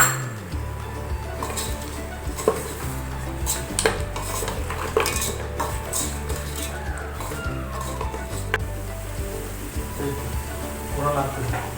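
Spoon stirring whisked sour yogurt into mutton in a metal pot for yakhni pulao, with repeated clinks and scrapes of metal against the pot under a steady kitchen background.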